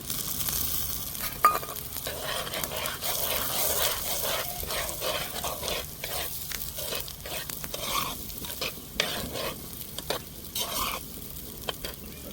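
Tomatoes just tipped into a pan of golden-brown fried onions sizzle steadily while being stirred, with scraping strokes and occasional clinks of a spoon against the pan, no voices present.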